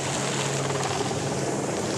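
A helicopter hovers while positioning a slung load over a garden on the Riviera, its rotor wash making a loud, steady broadband roar with a low throb underneath, unbroken throughout.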